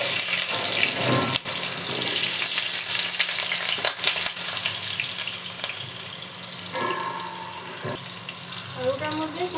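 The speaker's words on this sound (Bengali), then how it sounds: "প্রথমে আমি আলুগুলো ভেজে নিচ্ছি।" Potatoes fry in hot oil for a Bengali chicken dish, giving a steady, loud broadband sizzle with a faucet-like hiss and occasional stirring clatters throughout.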